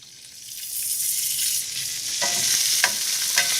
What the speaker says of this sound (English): Olive oil, just to begin. Let's get the crushed garlic in. And the anchovies, chopped in 3